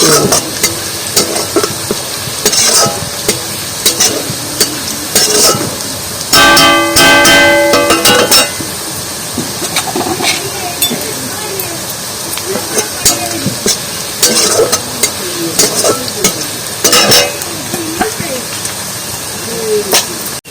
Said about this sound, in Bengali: একদম লাল লাল হয়েছে আর একটু লাল লাল করে ভেজে নেবো